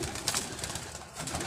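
A stray pigeon sitting outside a net coos softly a couple of times, low and muffled against a quiet background.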